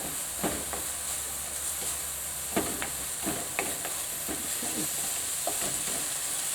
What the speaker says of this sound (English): I'm going to give that a quick stir.